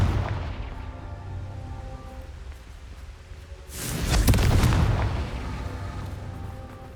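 A Confringo blasting spell explodes in the Hogwarts Legacy video game, a loud booming burst over a continuous rumbling game background. There is no talking.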